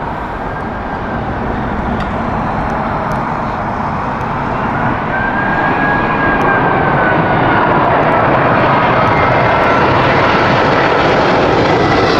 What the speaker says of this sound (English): we actually have Emirates EK1 inbound from Dubai